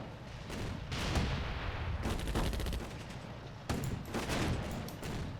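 Gunfire in the war game Attack at Dawn: North Africa, repeated rattling volleys of rifle and machine-gun fire in clustered bursts, loud and dense against a rumbling background.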